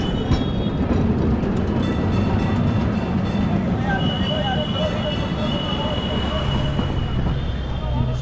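A Kolkata tram near New Market rolls past on its rails with a loud, continuous rumble and faint squeals from the wheels. Voices can be heard at times beneath the noise.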